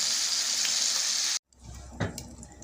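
Food browns in hot oil in a pan, giving a loud steady sizzle that cuts off sharply, then a quieter crackle resumes with a brief splash-like clatter partway through.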